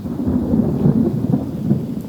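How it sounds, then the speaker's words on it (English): Heavy rain pours during a storm while low thunder rumbles continuously underneath, loud and close, with no voices. "as soon as the thunder and lightning slows down"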